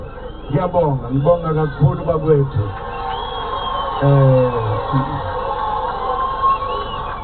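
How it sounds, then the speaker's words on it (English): Supporters of Zuma cheer and chant outside a South African court, a crowd of voices rising in rhythmic shouts and sung calls, fairly close and loud, with a reporter talking nearby. "Mr. Zuma's allies, cheering him on outside court here"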